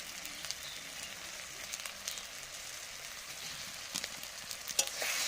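Turmeric and chili powder sautéing in oil in a pan for a katla fish curry make a soft, continuous hiss and sizzle. Faint scattered crackles sit under it, and a few small utensil taps are heard near the end.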